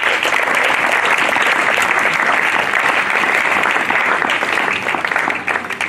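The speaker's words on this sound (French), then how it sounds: "Nous le recevons avec acclamation." Loud, sustained applause and cheering from a congregation at a church baptism and disciples' graduation ceremony, dense and steady throughout before thinning slightly at the very end.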